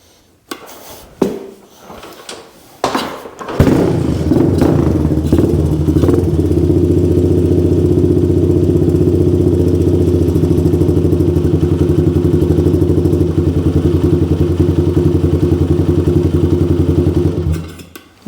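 A Honda 200X engine catches after several sharp clunks and kicks, then runs in a steady, loud, close rumbling drone for about fourteen seconds before abruptly cutting out, unable to settle into an idle.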